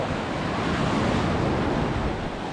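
Sea waves wash onto a beach in Cancun, a steady, loud, broadband roar of surf with wind buffeting the microphone throughout and no talking.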